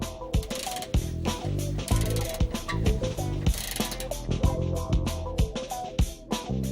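A hand ratchet works the upper shock absorber nut on a Peugeot 407. It makes loud, close clicking in quick repeated bursts with short pauses between strokes, and no one talks.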